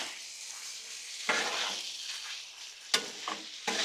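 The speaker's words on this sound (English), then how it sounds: "let's stir that up" Carne asada rice with green chilies stirred and scraped across a hot Blackstone griddle, a steady sizzle broken by a few sharp spatula scrapes and clacks.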